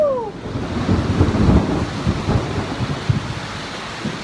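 Thunder rumbles loud and close through a mountain storm in New Mexico, a sustained deep roll that swells and rolls on with steady rain and wind behind it.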